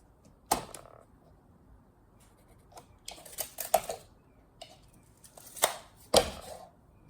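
Paper being cut for a four-corner grain wrap on a box, with a few sharp, isolated snips and crisp rustles spaced out against a quiet background.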